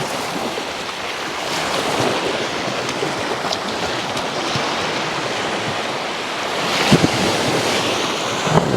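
Ocean waves wash onto a beach at a resort in Batangas, a continuous surf roar mixed with wind buffeting the microphone, with a slightly stronger wave surge toward the end and no talking.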